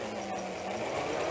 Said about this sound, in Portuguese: já fazer um teste em um outro retalhinho pra ver se vai costurar beleza